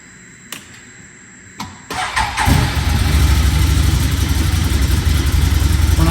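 A Can-Am vehicle with a fuel pump fault: a couple of clicks, then the engine cranks and catches, revs up and runs loudly and steadily, close by with no talking.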